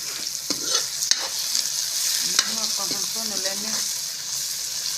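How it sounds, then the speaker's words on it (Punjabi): Cumin seeds roasting in a pan alongside other ingredients, with a spoon stirring and scraping against the metal amid a steady crackling sizzle, close up and without talk. "ਇਹਦੇ ਜੀਰਾ ਪਾ ਦੋ ਉਹ ਵੀ ਨਾਲ ਭੁੱਜ ਜੂਗਾ"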